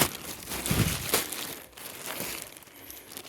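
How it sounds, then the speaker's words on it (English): A plastic bag crinkles and rustles steadily as freshly caught squid are dropped in during land-based squid fishing, close and continuous, with scattered sharper crackles. "Chuck them in the plastic bag."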